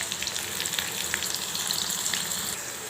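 Onions and garlic frying in hot oil make a steady, close sizzle with crackling pops throughout, no talking.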